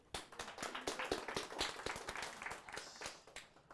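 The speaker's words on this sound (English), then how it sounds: "a round of applause for this patient" A few people in a dental setting clapping for a patient after a root canal on a severely curved root, a sparse, brief patter of individual claps, quiet and close, with some murmuring underneath.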